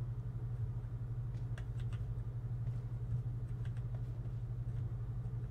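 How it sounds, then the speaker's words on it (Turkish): A vehicle engine in PUBG Mobile hums low and steady, holding a constant rumble throughout with no talk. "Araç sesi duyuyorum."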